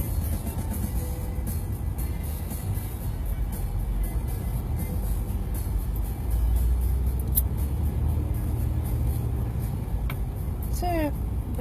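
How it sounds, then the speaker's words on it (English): Slow road traffic passes during a cloudy-day commute, a steady broadband rumble of cars and heavier vehicles rolling by continuously, with some voices faintly audible in the background. "traffic as usual is just being its slow deliberate self here"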